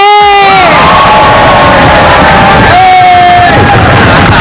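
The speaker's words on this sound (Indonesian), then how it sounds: "Tepuk tangan kelompok B." A loud crowd cheers and shouts for group B in a family quiz game, with whooping voices and children's yells filling the whole stretch, close and continuous.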